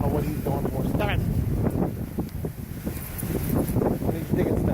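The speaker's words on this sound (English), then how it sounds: "Windy." Strong, gusty wind from Hurricane Harvey buffeting the microphone in the morning, a continuous loud roar that swells and rattles throughout.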